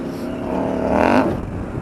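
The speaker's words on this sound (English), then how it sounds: "The exhaust sounds fantastic on this." A 2022 KTM 890 Adventure R motorcycle engine rumbles and revs up close, rising to a louder peak before easing off slightly, deep and throaty throughout.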